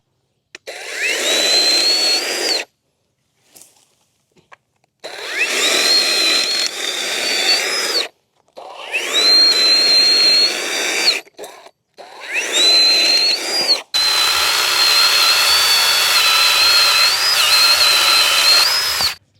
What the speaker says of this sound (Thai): เดี๋ยวผมจะทดสอบความเร็วในการตัดของเลื่อยโซ่ไร้สาย